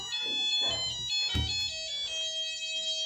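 An empty automatic flour mill (chakki) machine running idle gives off a steady high-pitched whistling whine with sustained tonal lines, close and moderately loud, with a brief clunk partway through.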